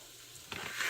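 Bacon heating in a pan while making a keto meal, a soft low hiss that swells into a brighter, louder sizzle about halfway through, with no talking.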